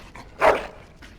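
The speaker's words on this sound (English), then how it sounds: "Bloody dog." A single loud, close bark from a dog in the Dragon Age: Origins video game, with a softer yip or whine before and after it.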